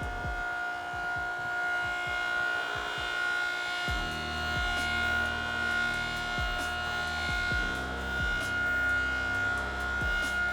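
A motor-driven buffing wheel hums steadily while a plastic part is polished against it with compound, giving repeated soft rubbing pulses over a constant electric drone close at hand.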